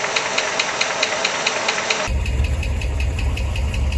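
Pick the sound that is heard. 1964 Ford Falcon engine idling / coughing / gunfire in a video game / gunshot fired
1964 Ford Falcon engine idling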